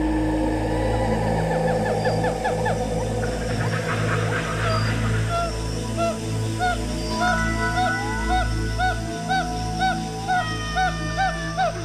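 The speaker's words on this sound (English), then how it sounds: "The dawn chorus of primates is a truly Asian sound." Primates call in a dawn chorus in an Asian rainforest, rising and repeated hooting whoops in rhythmic series over a steady low hum of the forest, some calls near and loud, others farther off.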